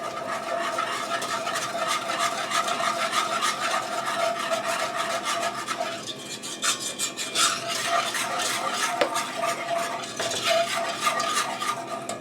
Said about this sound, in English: So I'm going to whisk in